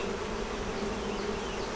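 Honey bees buzz steadily on a hive frame of foundation, a dense, close, continuous hum with no voices.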